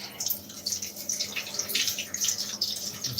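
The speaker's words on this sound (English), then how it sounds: "Rinse this out." A Dyson vacuum part rinsed under a running tap: continuous splashing, gurgling water with bright spattering close by, fairly steady for a few seconds, no talk over it.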